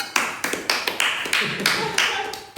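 A few people clap their hands in a quick run of about eight short, sharp claps, each one close and crisp, with faint voices behind.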